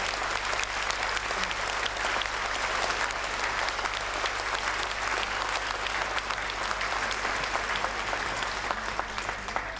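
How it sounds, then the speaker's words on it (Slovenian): Sustained applause from a concert audience at a Christmas and New Year concert, greeting the Serbian cultural society Sava; dense, steady clapping fills the hall throughout with a low constant hum underneath. "En velik aplavz prosim za Srbsko kulturno društvo Sava"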